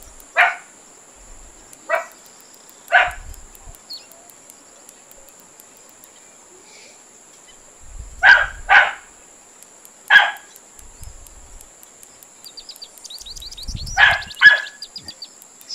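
A dog barks in the room while a fishing game set on the Congo River plays. Several sharp, separate barks come at uneven intervals, some in quick pairs, over a steady hum of insect and bird ambience.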